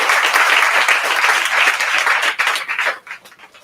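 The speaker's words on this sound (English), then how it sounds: "a round of applause for Social Equity LA." A live audience at a women-in-cannabis business event gives loud, dense applause that holds steady and then tapers off over the last second.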